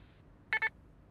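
A short double electronic beep from a cartoon voicemail greeting, two quick tones close together, clear against near silence.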